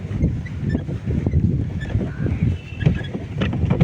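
A strong headwind blows steadily across a boat on open water at Avadi. The gusty wind noise roars and buffets the microphone without a break, with faint water sounds underneath.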